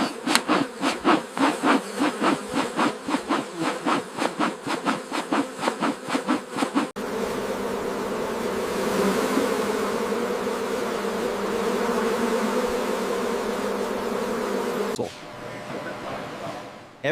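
Honey bees swarm at a large commercial honey farm, a dense steady buzzing that pulses rhythmically at first, then settles into a continuous loud drone before shifting to a softer hum.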